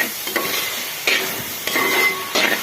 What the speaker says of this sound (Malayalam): നമുക്ക് ഇളക്കിയിട്ട് നന്നായി വാടി വെക്കണം.